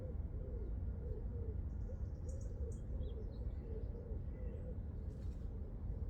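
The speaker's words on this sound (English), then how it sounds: "Plenty of pigeons about," Pigeons coo repeatedly in a park on an early August morning, their soft low calls steady beneath a constant outdoor hum, with faint small birds chirping now and then in the background.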